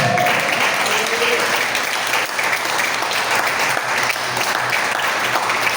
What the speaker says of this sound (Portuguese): glorifique por um momento e aplauda Jesus bem forte